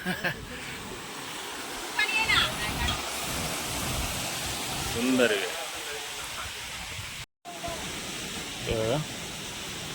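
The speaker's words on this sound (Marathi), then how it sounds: "खालून पाणी वाहते." Water of Napane waterfall flows steadily beneath a glass bridge in the Konkan region, a constant rushing wash filling the background while people talk over it.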